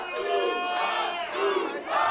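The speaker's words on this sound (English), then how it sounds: "This crowd supporting Boofa." Loud wrestling crowd at a live event roaring and cheering for Big Boofa, Desmond Cole, a sustained wash of massed voices swelling near the end.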